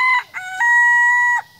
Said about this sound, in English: That rooster really wants to say welcome back to the channel